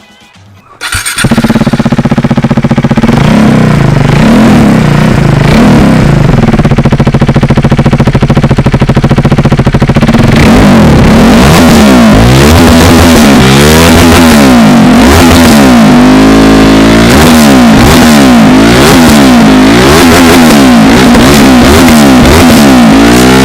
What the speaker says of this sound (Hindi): लेकिन ये वाली RC 390 का एग्जॉस्ट नॉट सुनी है